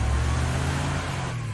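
A car driving in the video game The Wolf Among Us, a loud steady engine roar up close with a low rumble throughout, easing slightly toward the end, with no voices.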